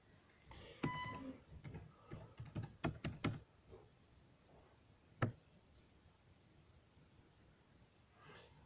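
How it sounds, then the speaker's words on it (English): Fingers typing on a computer keyboard, a close run of quick light key clicks in irregular bursts, then a lone tap and quiet, with no talking. "I'm just gonna type the fucker in."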